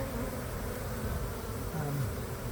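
Honeybees buzz steadily and densely under a shed floor, a close, continuous droning swarm with no voices.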